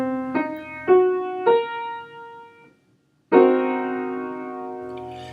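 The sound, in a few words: half-diminished seventh chord being played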